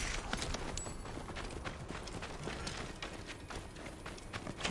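Horse hooves clip-clopping in Assassin's Creed Origins, a faint, steady rhythmic patter of hoofbeats under a constant noisy background with no talk.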